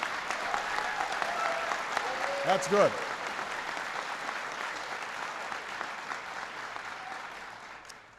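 Audience applause at a presidential speech on jobs, steady clapping throughout with a brief spoken remark partway through, gradually tapering toward the end.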